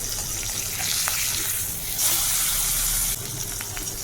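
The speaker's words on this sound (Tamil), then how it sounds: "ரெண்டு பக்கமும் கொஞ்சம் நல்லா வந்து பொரிச்சு எடுக்கணும்" Eggs fry in a pan with a steady, close sizzle and crackle, with a louder surge midway and a few faint clinks, no talking.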